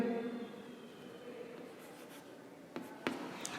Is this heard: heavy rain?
no